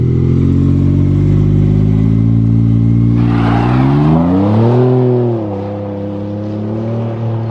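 A Ford F-150 EcoBoost truck launching in two-wheel drive, its engine loud and close, droning steadily before a sharp rising rev with a gritty roar, then dropping back to a lower hum.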